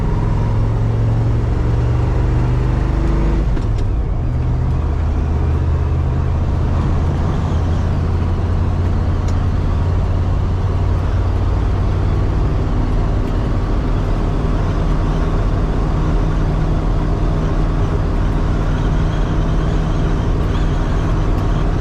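A 1976 Ford F-150 pickup truck being driven, giving a steady low engine drone with road and wind noise from inside the cab that holds constant throughout, with no talking.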